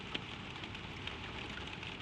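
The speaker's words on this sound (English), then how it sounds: "At the eaves, far at the edge of the roof below your window, the rain gathers and drips." Rain falls steadily on an old roof at night, a soft, even patter with occasional distinct drips. The sound is faint and continuous, and no one speaks.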